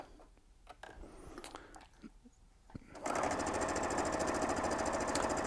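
A sewing machine stitching Dresden pillow wedges starts up after some quiet handling of fabric, then runs in a steady fast close-up drone until the end.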